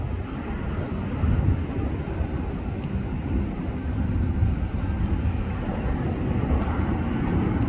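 An airliner arriving from Dublin lands on final approach, its engines making a steady, heavy roar that stays loud throughout with no talking.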